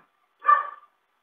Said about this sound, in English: I hope you can't hear the dog barking because he is